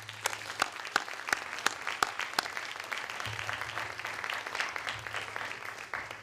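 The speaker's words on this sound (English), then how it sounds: "Please join me in giving them a round of applause." A round of applause for law school moot court finalists, with several sharp, loud claps up front before the crowd settles into a steady, even clapping that carries through to the end.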